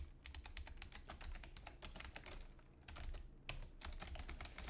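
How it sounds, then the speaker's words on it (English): Rapid clicky mechanical keyboard typing, close and crisp, with bursts of quick keystrokes and a brief pause partway through. "The clicky-clacky keyboard that you will hear me typing"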